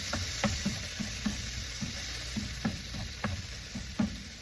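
Okra, squid tentacles and shrimp sauté in a pan under a steady background sizzle, with a spatula scraping and stirring in irregular knocks and scrapes, close up and with no talking.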